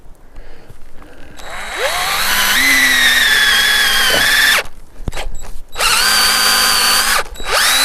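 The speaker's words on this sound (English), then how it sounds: "Drill a hole." A power drill boring a tap hole into a maple tree trunk at an off-grid cabin, a loud sustained whine that rises and holds for a few seconds, stops, then starts again for a second long burst.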